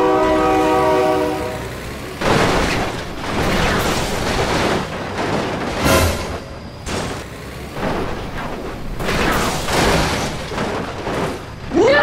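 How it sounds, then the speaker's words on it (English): A train horn blares loudly in the BeamNG Drive driving game while a train rumbles past nearby, a long sustained blast followed by repeated horn bursts over the heavy rolling clatter, no talk. "Oh my god, train!"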